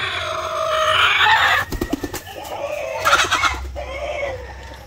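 Black Australorp hens cluck and squawk loudly close by in a farm coop, one hen brooding while others feed, with busy overlapping fowl calls throughout.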